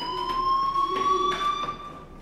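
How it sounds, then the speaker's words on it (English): A fire alarm rings in the Life is Strange video game, a steady electronic tone with overlapping pulsing layers, loud and continuous throughout with no talk. "do you hear that fire alarm?"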